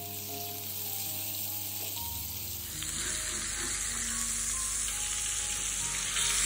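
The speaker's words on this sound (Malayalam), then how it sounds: "ചീസ് നന്നായി ഫ്രൈ ചെയ്തെടുത്തിട്ടുണ്ട്" Cheese sizzles and fries steadily in a hot pan, a dense crackling hiss that grows slightly brighter partway through, with no voices.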